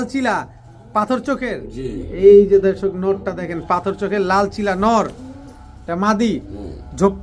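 Red Chila pigeons, a crested, feather-footed pair, coo in low, rolling bursts close by while someone talks over them.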